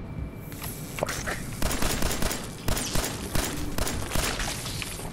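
Rapid 10mm pistol gunshots in Fallout 4, fired in repeated bursts of sharp cracks at close range, mixed with combat noise.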